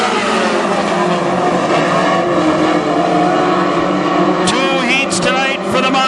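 WISSOTA Mod Four race cars roar around the Granite City Speedway oval as a race begins, a loud continuous engine blare with sharper passing snarls near the end, and an announcer talks over it.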